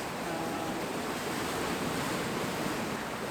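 Steady roar of ocean surf on rocks along the Madeira coast with broadband wash, waves breaking continuously nearby, a little wind buffeting underneath, no voices.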